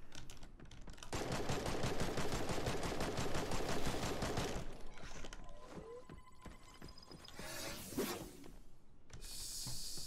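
Rapid automatic gunfire in the video game Creative Destruction fires in a loud, sustained burst for several seconds, then gives way to scattered shots, clicks and game effects.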